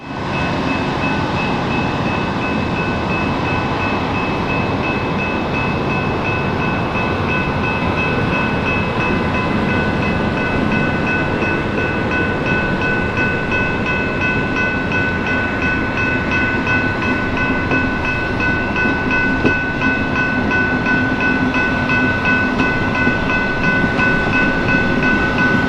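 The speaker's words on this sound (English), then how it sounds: "Amtrak 352 highballs heading east for their next stop in Dearborn and final destination of Pontiac," An Amtrak passenger train pulls away eastbound past a railroad crossing, its steady rolling rumble and wheel noise loud and close, holding continuously throughout with faint tonal whine from the cars and no voices.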